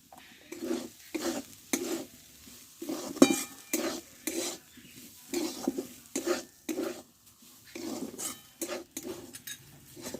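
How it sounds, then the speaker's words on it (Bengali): A spoon stirs and cooks a mixture with fried spices in a pan, making a rhythmic series of scraping and clattering strokes over a soft sizzle, with pauses between bursts. "দেখো এটা আমি ভালো করে কষে নিয়েছি"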